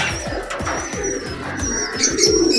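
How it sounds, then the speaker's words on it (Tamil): Katta Mooku homer pigeons in a Pondicherry breeding loft cooing close by, several rhythmic throaty coos repeating every half second or so, with faint chirps in the background. "இதையும் நல்லாயிருக்கும் புறா கிளாசிக்காக இருக்கும்"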